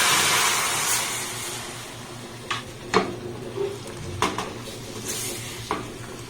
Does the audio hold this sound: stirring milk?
yes